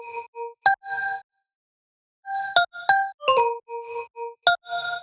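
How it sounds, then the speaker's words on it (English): Serum synth lead layer from a Trap City preset, processed with OTT and a shaper box: bright bell-like plucked notes in short clipped bursts, a pause in the middle, then a quicker run of notes, alone and close. "This one is a serum from I think the Trap City preset pack."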